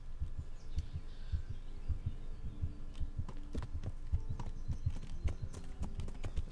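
A horse clip-clops along at a steady trot in the medieval game Kingdom Come Deliverance, with rhythmic hoofbeats close and clear over a low hum and sharp ticks of tack, and no voice present.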